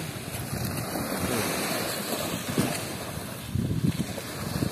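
Strong wind buffets the microphone while waves surge and break at the shore of Pranburi Forest Park in Thailand at night, a steady roaring wash with heavier surges near the end.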